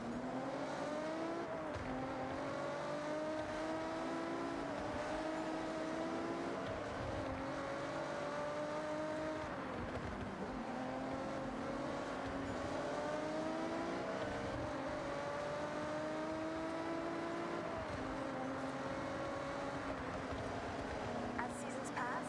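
A Lotus sports car in the racing game Forza Horizon 6, its engine droning steadily and rising and falling through gear changes at a constant, moderate level.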